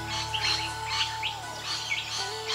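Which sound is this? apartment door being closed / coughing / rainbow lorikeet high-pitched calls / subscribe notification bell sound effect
rainbow lorikeet high-pitched calls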